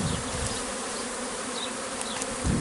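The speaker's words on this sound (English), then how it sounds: "So we've shaken all the bees from the top box in here, so this hive is now pretty full." Honey bees buzzing around a crowded hive just after being shaken from the top box, a dense, steady swarm drone close by, with individual bees passing near.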